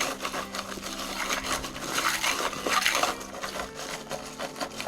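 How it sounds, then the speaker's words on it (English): Swizzle stick twirled rapidly up and down in a rum and port cocktail with ice, giving a close, continuous rattling clatter with uneven surges of intensity. "Then we're going to take our swizzle stick and just, twist it up and down."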